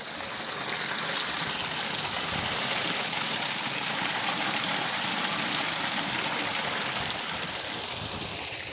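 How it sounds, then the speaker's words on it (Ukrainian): Water pours steadily through the spillway of a dammed pond in Vinnytsia region, a continuous broadband rushing roar that stays even throughout with no talking. "Загородили такий ставок, зробили спуск, а він тече."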